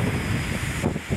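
Strong wind gusts across an open scenic spot in Malico, San Nicolas, Pangasinan, a steady broadband roar buffeting the microphone with no talk.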